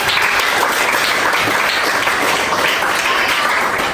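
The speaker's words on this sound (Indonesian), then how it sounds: "kita beri tepuk tangan untuk Bapak" A classroom audience gives a round of applause for a man, a continuous, even spatter of many hands clapping close by, steady and loud from start to finish with no voices over it.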